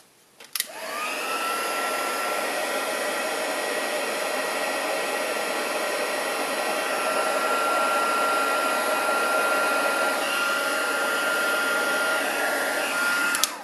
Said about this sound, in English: Right, heat tool.